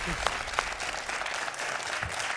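Applause on the French quiz show Questions pour un Champion as a contestant claps for a correct answer, a fairly soft, steady patter of hands with a few sharper individual claps standing out near the start.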